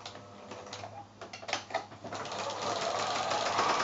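A sewing machine runs while chain piecing quilt fabric squares with a quarter-inch seam, rapid mechanical stitching that starts in short bursts then settles into a steady close whir.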